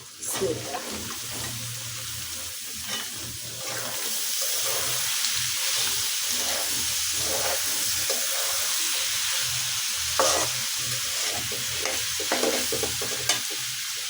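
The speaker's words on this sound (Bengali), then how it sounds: "দিয়ে দিচ্ছি কাঁঠালের বিচি।" Jackfruit seeds and egg fry in a hot pan with a steady, loud sizzle that runs throughout, broken by brief stirring and scraping sounds.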